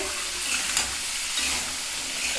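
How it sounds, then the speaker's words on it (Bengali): Vegetables frying in a pan for moong dal give off a constant hiss and sizzle, close and fairly loud, with faint stirring underneath and no speech. "এটা একটু ভাজা ভাজা হবে।"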